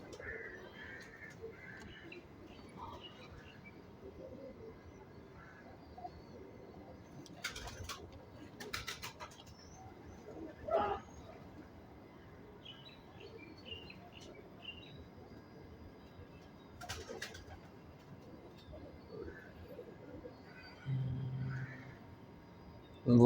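A pigeon at a pigeon-flying competition coos softly in low, rolling calls, faint and intermittent at moderate distance, while people talk nearby and occasional bumps and rustles sound through.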